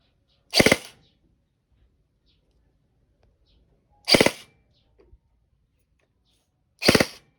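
Three short, muffled pops from a suppressed G&G CM16 Raider airsoft rifle, spaced a few seconds apart, each a brief dull burst with a quick decay, separated by near silence.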